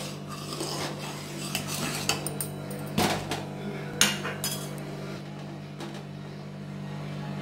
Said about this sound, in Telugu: పంచదార వేసి మనం ఇలా తిప్పుకుంటూ ఉండాలి